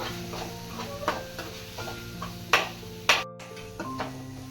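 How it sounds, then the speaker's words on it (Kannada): Masala chilli powder stirred and fried in oil in a pan for an egg gravy, with soft scraping and a few sharper spoon clinks against the metal over a low steady sizzle. "ಅಚ್ಕಾರದ ಪುಡಿ ಆ್ಯಡ್ ಮಾಡಿಕೊಂಡು ಚೆನ್ನಾಗಿ ಮಿಕ್ಸ್ ಮಾಡ್ಕೋಬೇಕು."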